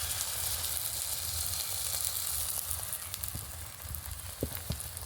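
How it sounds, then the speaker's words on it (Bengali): Egg paratha batter fries in a kadai with a continuous sizzling hiss, close and fairly quiet, with a few small pops and crackles toward the end. "ব্যাটারটা কড়াইয়ের মধ্যে দেওয়ার পর কয়েক সেকেন্ড মতো রেখে দিলেই দেখবেন খুব সুন্দরভাবে কিন্তু রুটিটা হয়ে যাবে।"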